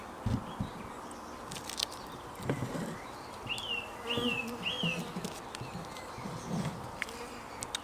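A steady, low buzzing of honey bees at a hive hums throughout, with occasional louder passes of individual insects and faint birdsong in the background.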